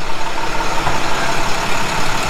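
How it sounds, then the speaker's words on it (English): A moving truck idles in a Los Angeles neighborhood street, its engine a steady, loud low rumble that holds without a break, with no one speaking. "This noisy moving truck."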